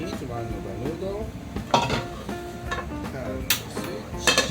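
Metal utensils clink and scrape against two frying pans, one sautéing vegetables and meat, the other frying noodles for chicken yakisoba, in a busy stretch of cooking, with sharp knocks and a voice murmuring underneath.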